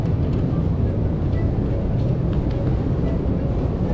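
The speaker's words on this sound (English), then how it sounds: "I can't believe this is the train because there is basically only one carriage." A single-carriage train in Georgia near Tbilisi rumbles steadily, with a loud continuous low roar of wheels and motion and faint voices in the background.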